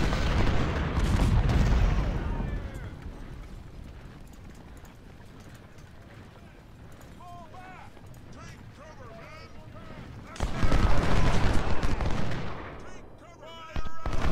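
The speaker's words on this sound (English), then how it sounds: "Sangria is being shot by their artillery" Artillery fire in the Civil War strategy game Ultimate General: Civil War, with loud booming bursts at the start and again near the end, a quieter rumble of battle between, and clopping hooves mixed in.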